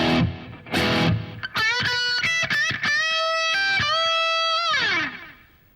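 An overdriven electric guitar plays a phrase from a solo in context. It starts with two strummed punches, then a run of quick picked notes and sustained bent notes that fade out, loud and alone.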